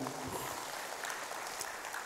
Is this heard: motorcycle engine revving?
no